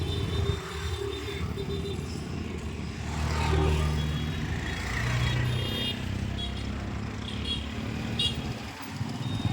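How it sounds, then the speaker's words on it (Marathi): Fast cars, motorcycles and trucks rush past on a busy road beside the speaker, a continuous roar of traffic with swelling passes near and close, and faint voices in the background. "इतक्या गाड्या येतात ना फास्ट, मला भीती वाटायली रोडवर काढायची"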